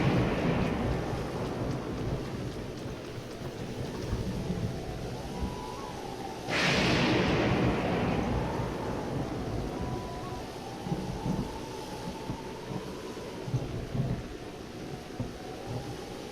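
Steady rain with rolling thunder in Zelda: Breath of the Wild, a sharp thunderclap cracking mid-way and low rumbles continuing beneath a constant downpour, no voices.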